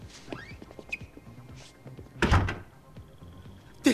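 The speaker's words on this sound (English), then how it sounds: "Florian, open the door." A door opens in the GTA IV video game with a single loud thump partway through, set against faint scattered in-game ambience and small clicks.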